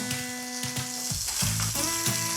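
Steak searing in a hot pan gives a close, loud sizzle with a few thumps and shifting tones as the meat is moved, no speech.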